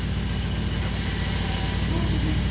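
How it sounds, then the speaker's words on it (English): A Jeep WJ engine idles steadily with a low, even rumble, close and continuous with no change in pitch. "Alright, now the motor's running."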